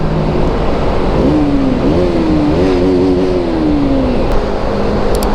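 A KTM Duke 200cc motorcycle engine droning inside a tunnel, loud and close, its pitch rising and falling gently as it holds speed, with the enclosed space adding a heavy, constant roar.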